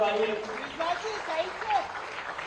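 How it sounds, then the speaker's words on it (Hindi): Clapping at a welcome ceremony for a World Cup-winning women's cricketer at a chief minister's residence, moderate applause running under a voice speaking over it. "माननीय एक बार जोरदार तालियां इस समय रखनी"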